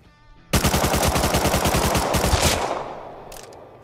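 A single rapid burst of automatic gunfire from the video game Rust rattles out for about two seconds at close range, then dies into a short fading tail with no talk over it.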